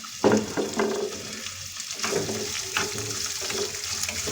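Chopped onions frying in a pan for baingan bharta, a close, bright sizzle with bursts as they are stirred, steady and without talk.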